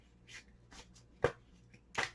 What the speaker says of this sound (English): I'm going to give it another shuffle and fan these out